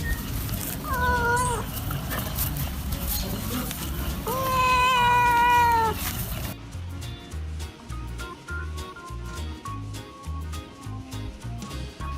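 Cats meow and caterwaul in bursts, with rising and falling drawn-out cries over a busy background for the first half; the second half switches to rhythmic music with no meowing.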